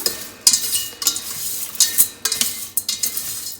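Vermicelli noodles sautéing in a pan, with bursts of sizzling and scraping stirs from a utensil against the pan, close and fairly loud, no talking.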